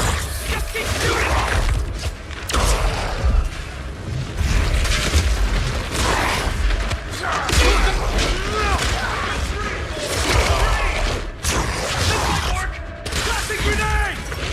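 Gunfire and explosions from the Marvel's Spider-Man video game: dense, continuous battle noise with heavy booms and rattling bursts, loud and close throughout, with shouted voices mixed into the chaos.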